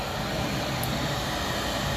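An old hair dryer blows with a steady, loud, even rush of air, unbroken throughout, heating the air inside a 1957 Ferguson 35 TVO tractor's tank.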